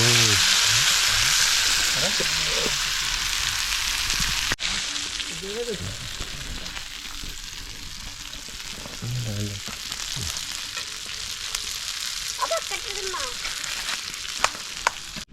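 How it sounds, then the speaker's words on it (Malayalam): Karimeen, pearl spot fish, frying in oil in a non-stick pan, with a loud, dense, continuous sizzle up close that eases slightly partway through, while voices talk intermittently over it. "നമ്മൾ ഇന്നലെ പിടിച്ച കരിമീൻ നല്ല ഫ്രൈ ആക്കി വെച്ചിട്ടുണ്ട് ഫ്രൈയിലേക്ക് പോവാം"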